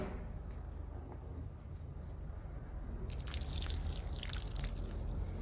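Water trickles slowly from a watering can onto a tree fern trunk in a raised garden bed, a faint steady drip and patter that grows a little stronger partway through.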